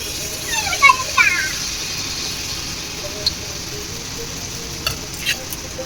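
Mango malpua batter frying in hot oil in a kadai makes a soft, steady sizzle throughout, with a few brief crackles and faint clatter near the start and again toward the end.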